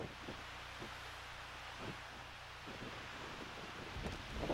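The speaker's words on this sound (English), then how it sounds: "The wind has died down somewhat, but it's still an issue." Wind blows steadily outdoors in a rocky, treed spot, a soft continuous rush with faint gusting buffets on the microphone and no voices.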